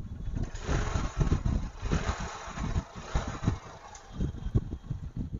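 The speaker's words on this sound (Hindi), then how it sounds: "अभी जैसे कि बाइक स्टार्ट है, आप लोगों को नहीं लग रहा है बाइक स्टार्ट है" A Hero CBZ Xtreme motorcycle idles after about 50,000 kilometres of use, its engine making a low uneven putter with irregular pulses, close and moderately loud with no speech.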